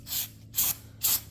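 A Honda Homelite power washer sprays to clear sand in three short hissing bursts, each about a quarter second long and separated by brief silences.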